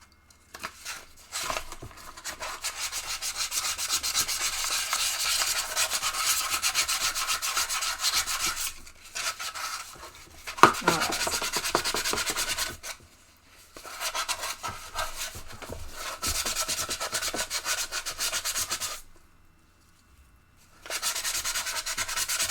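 Aluminum foil ball rubbed and polished by gloved hands, giving long harsh scraping stretches broken by brief pauses, close and steady.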